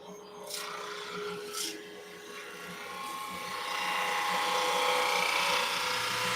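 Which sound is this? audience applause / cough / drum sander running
drum sander running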